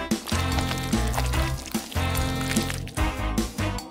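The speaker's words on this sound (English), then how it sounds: "Pour it into these little round molds." Melted candy pours into little round molds, wet liquid trickles and soft squishy splashes coming in repeated bursts close up, with brief gaps between pours and background music running underneath.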